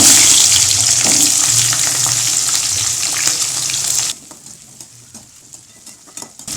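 Onions sautéing in hot oil with mustard seeds, fenugreek and curry leaves for a South Indian tomato kuzhambu, a loud close sizzle with stirring that drops sharply to quieter crackles and scrapes near the end.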